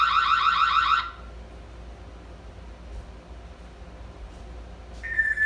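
A Ring Floodlight Cam Wired Plus security camera's loud electronic alarm blares for about a second, then cuts off, leaving quiet room noise; a brief high tone returns at the end.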